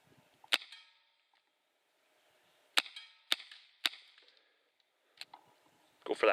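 A BB revolver fires several sharp, snappy shots, one early and then three in quick succession, each a crisp crack with a short metallic ring, followed by lighter clicks and a burst of handling noise.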